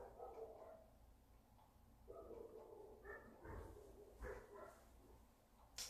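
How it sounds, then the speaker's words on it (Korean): Dogs bark in a neighborhood, a few faint distant barks and yips at irregular intervals over a quiet indoor background. "강아지들이 좀 많이 짖죠?"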